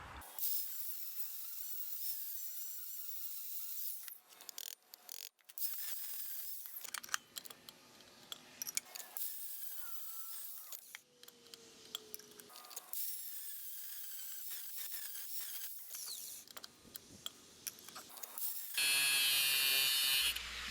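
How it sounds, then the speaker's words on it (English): A rotary grinding tool cuts a slot into the end of a steel wrench, its high, whining buzz starting and stopping in several bursts with brief quiet pauses between them. "I'm going to grind a slot in it so it fits around the Woodruff key."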